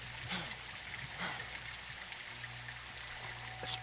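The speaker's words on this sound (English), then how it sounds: "It's raining fucking hard." Heavy rain in a Modern Warfare 2 jungle mission, a dense steady wash of downpour with low rumbling ambience, no talking.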